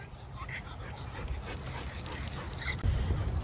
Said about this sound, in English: that was the neighborhood dog with one of the little kids